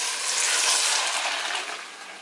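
Water gushes into a pot of toasted fideo noodles for sopa de fideo, a steady close rushing pour that softens and thins toward the end, with no talking.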